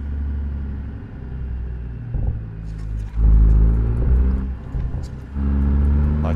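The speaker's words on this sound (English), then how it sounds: "That's all out of that road and wind noise." Constant low road and wind rumble inside a truck cab in American Truck Simulator, with small bumps and swells in loudness over a steady drone.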